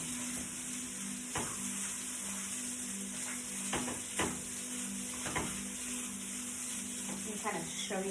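Brown rice and sausage stir-frying in a pan over high heat, giving a steady close sizzle with occasional scrapes and stirring clicks throughout.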